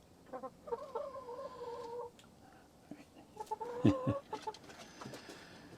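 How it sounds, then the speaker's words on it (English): Chickens cluck and murmur nearby in short bursts, with a louder squawk partway through over a quiet outdoor background. "Some of you had asked how the chickens were."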